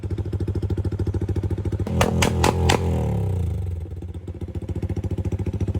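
Yamaha Sniper 155 motorcycle engine idling with a steady pulsing rhythm, then revving hard to high RPM in a few quick blips with popping backfire before settling back to idle, loud and close.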